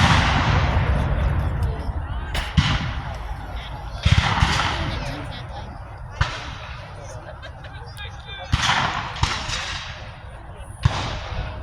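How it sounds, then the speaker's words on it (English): Muzzle-loaded musket fire at an outdoor Civil War battle reenactment in Old Bedford Village, with sharp distant shots cracking one or two at a time over several seconds amid crowd murmur and nearby talk. "The Union's starting to return fire."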